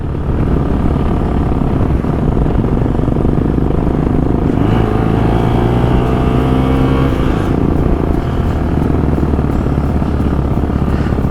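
Xpulse 200 and Royal Enfield Bullet motorcycles climb the Chang La mountain pass in Ladakh, engines droning loud and steady up close with shifting pitch as they labour uphill, no talk.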